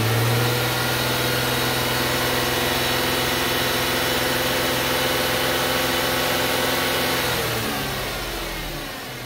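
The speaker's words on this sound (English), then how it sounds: "To test for an exhaust restriction, increase and hold the engine RPMs at 2500." A car engine is held at a steady 2500 RPM during an exhaust restriction test, giving a loud, constant, close hum that eases down near the end.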